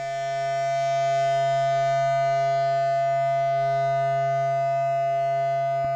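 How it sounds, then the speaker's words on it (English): A sustained electronic drone from a self-oscillating Make Noise Afterneath eurorack delay-reverb module, a steady loud tone with rich harmonics that barely changes throughout. "When the Afterneath is self-oscillating, the dampen knob controls the tone of the self-oscillation."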